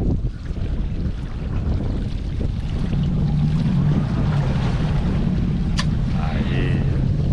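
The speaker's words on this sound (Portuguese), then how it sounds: "Olha o vento." Wind blows across a fishing boat, a constant low rumble and buffeting on the microphone with a boat's background drone, and a short voice is heard briefly near the end.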